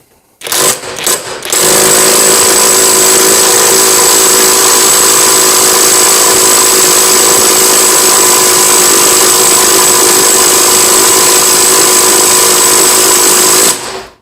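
ALLSOME 400 Nm cordless impact wrench tightening a nut, a few short rattling bursts, then one long loud, close hammering whine that holds steady for about twelve seconds before it cuts off.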